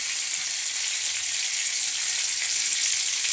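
Mustard seeds and dried red chilies fry in coconut oil, producing a steady, even hiss of sizzling that stays close and continuous throughout with no talk.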